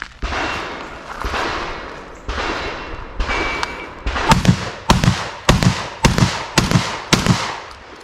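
Shotgun blasts from a Beretta 1301 Tactical LE or IWI Tavor TS-12 on an outdoor range during drills: a few spaced booms, then a quick string of sharp, loud shots with rolling echo, no voices.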